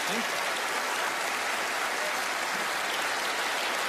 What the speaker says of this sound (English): Give Carlos a round of applause as he makes his way down.